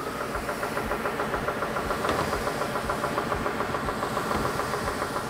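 A sander runs steadily while wooden table leg boards feed through it, a close, even mechanical drone with a fast regular pulsing throb and no talking.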